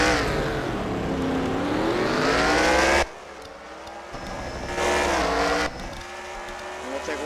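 Stock cars roar and scrape through a wreck at Bristol in NASCAR Racing 2003, loud engines rising in pitch, then cutting out abruptly and returning in bursts as cars slide and pass close by.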